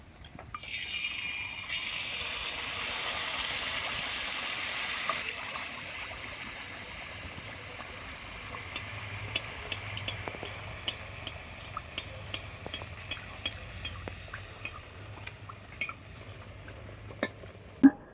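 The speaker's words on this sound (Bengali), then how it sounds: "আমি এবার মালপোয়াগুলো ভেজে নেব।" Malpua pancakes fry in hot white oil in a kadai, giving a loud broad hiss that slowly settles into a softer bubbling sizzle. Crisp ladle taps and clicks increase toward the end.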